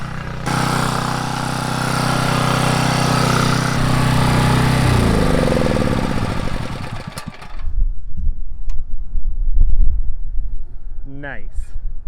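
An engine-driven pump draining water from a manure pit runs loud and steady, then revs down and stops partway through, leaving rough outdoor noise and a few knocks afterward.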